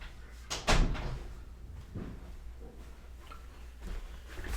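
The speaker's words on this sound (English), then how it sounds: "I want to close this door and make sure that it stays quiet." Indoor door pushed shut in a home office, a single sharp thud of the closing slam followed by faint room noise and quiet shuffling.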